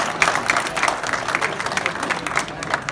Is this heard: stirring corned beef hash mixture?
no